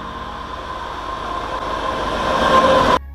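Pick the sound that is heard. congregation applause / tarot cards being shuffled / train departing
train departing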